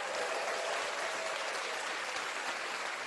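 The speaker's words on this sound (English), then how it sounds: "Let's clap it up for that" A studio crowd breaks into sustained, dense clapping that holds steady and loud from start to finish, with no pauses.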